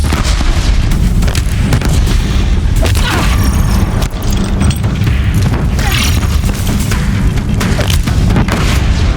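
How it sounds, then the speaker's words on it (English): Deathbringer war machines firing in Horizon Zero Dawn, a loud continuous barrage of heavy booms and blasts over a dense rumbling roar near a bridge, with voices faintly mixed in. "If the Deathbringers keep firing, this bridge will go"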